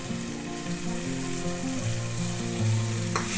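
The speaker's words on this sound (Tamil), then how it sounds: "ஒரு 2 நிமிஷம் வதங்கட்டும். 1 வெங்காயம் சேர்த்துருக்கேன்." Onion sautés in a pan with tomato, giving a steady, close, unbroken sizzle, with faint tonal sounds in the background.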